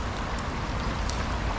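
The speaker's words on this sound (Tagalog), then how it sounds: "Malakas ang ulan." Heavy rain pours steadily onto a river around a fishing boat, a dense, loud, continuous hiss with no pauses and no voices.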